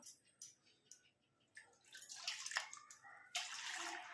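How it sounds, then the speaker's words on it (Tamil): Water from a mixer jar is poured into a vessel for a kitchen herbal decoction, coming in several short splashing bursts that grow into a fuller trickling pour, fairly quiet and close. "ஒரு டம்ளர் தண்ணி ஊற்றிருக்கேங்க"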